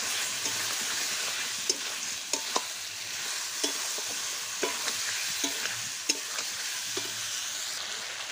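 Pointed gourd and potatoes are stir-fried with spices in a pan, giving a continuous close sizzle punctuated by regular sharp clacks of a spatula against the metal.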